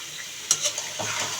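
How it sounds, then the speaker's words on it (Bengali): Cashew chicken is stirred through masala in a hot pan, a soft sizzle under brief scraping strokes of a spatula, with no voices. "এখন এই মশলাটার সাথে খুব ভালোভাবে কষিয়ে নেব"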